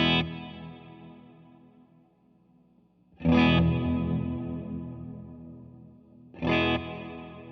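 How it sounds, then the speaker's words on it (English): Electric guitar through an EQD Dispatch Master pedal, delay time turned all the way down and the repeats knob raised to thicken the reverb: three strummed chords, each ringing out in a long, bass-heavy decay. "it will fatten up your reverb with the repeats knob"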